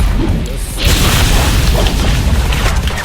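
A loud, sustained boom and crash as a KJ skill hit lands in a fighting video game, with a heavy impact swelling up and staying dense and forceful to the end.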